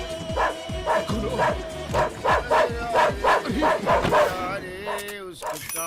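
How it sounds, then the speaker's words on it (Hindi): A dog barks repeatedly in a fast, steady run of loud yaps and whimpering yips, close by, with people shouting over it in a chaotic comedy film scene. "किसका कुत्ता है ये? अरे भैया, कोई ये कुत्ते को रोको भैया।"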